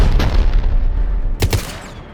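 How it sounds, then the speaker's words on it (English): Heavy cannon fire from a Cerberus cruiser booms during a Mass Effect 3 battle on Tuchanka, two loud deep blasts with rumbling tails, the second striking about a second after the first. "The cannon fire is clearing the way."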